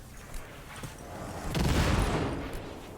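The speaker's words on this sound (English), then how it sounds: "Those grenades look like sticky grenades. Oh, they are sticky grenades." Sticky grenades exploding in the video game Cyberpunk 2077, a loud, rumbling blast that swells and lingers as a dense, noisy roar over several seconds.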